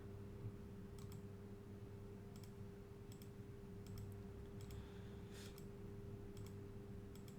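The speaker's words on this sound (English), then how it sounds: "Just clicking through it all because," Mouse clicks through an online Dominion card game, a series of about ten sharp, quiet clicks at an uneven pace over a low steady hum, with no talking.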